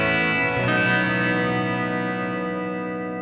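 A sustained guitar chord through a Headrush reverb effect rings out with a lush, lingering reverb tail that slowly fades.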